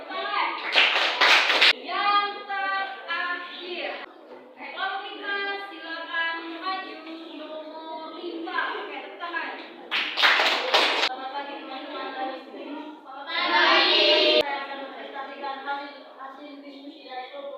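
Students in a classroom break into short bursts of applause for a presenting group, with a teacher and children speaking between and over the clapping.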